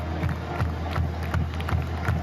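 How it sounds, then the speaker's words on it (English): Crowd of Sooner fans cheering loudly for Brent Venables, the newly named 23rd head football coach of OU, a steady roar of many voices with swelling bursts throughout. "Sooner Nation cheering loud and proud for the 23rd head coach of OU, Brent Venables"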